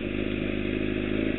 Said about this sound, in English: You probably hear my bike. I give it some gas.